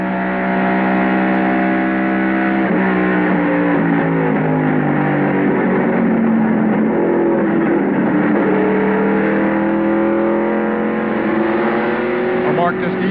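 A NASCAR race car engine at the 1995 Gatorade 200, heard from the roof camera, droning loudly and steadily with rising and falling pitch as it shifts and accelerates, with a commentator's voice over it.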